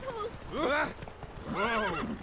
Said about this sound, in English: Don't you neigh at me.